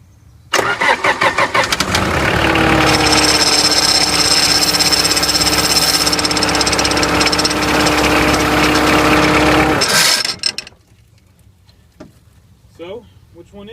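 A Bobcat 751 skid steer engine cranks, catches and runs loudly and close for about eight seconds before shutting off, leaving quiet with a voice afterward.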